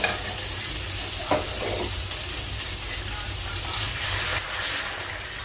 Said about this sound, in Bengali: এবার আমি একটু গরম জল দিয়ে দিচ্ছি